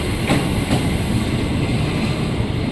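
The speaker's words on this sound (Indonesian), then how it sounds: "Masuk komuter lain tujuan Jakarta Kota, JRS 20531, rangkaiannya 10 kereta" A ten-car KRL commuter train bound for Jakarta Kota pulls into Juanda station, its steady loud rumble filling the platform with faint rhythmic wheel clicks near the start, no voices over it.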